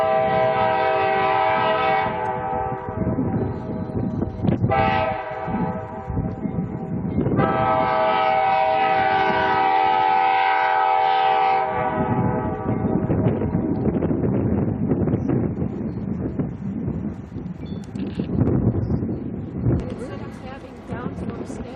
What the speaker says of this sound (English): this is the train that goes out of Skagway up to Carcross and back